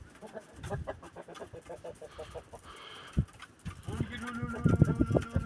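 Chickens clucking in short, repeated bursts close by, with a few sharper calls and background rustling; no talking.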